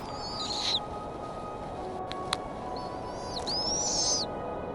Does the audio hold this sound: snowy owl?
yes